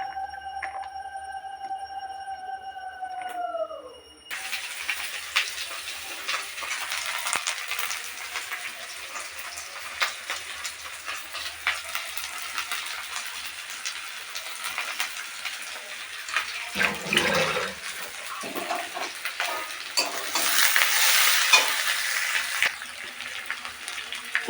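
Chopped onions sizzle and crackle steadily in hot oil in a pan, a continuous close frying hiss that starts abruptly after a few seconds of electronic beeping tones and continues without a break.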